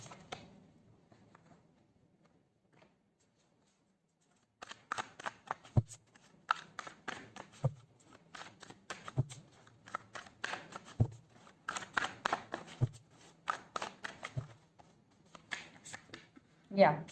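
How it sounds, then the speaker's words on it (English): Tarot cards are shuffled and pulled from the deck in a reading, with crisp riffling bursts and sharp card slaps repeating over about twelve seconds after a quiet start, mixed with a soft voice. "So let's pull some cards from universe where this connection is headed on and the outcome."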